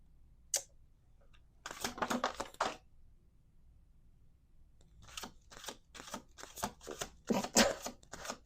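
Tarot-style cards being shuffled by hand, two bursts of crisp riffling and flicking, a short one early and a longer, choppier run near the end, with quiet pauses between.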